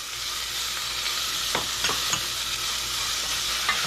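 Onion and garlic stir-fry in a pan for brown gravy, sizzling in a steady hiss while a utensil scrapes and swishes through them several times, close up and without speech.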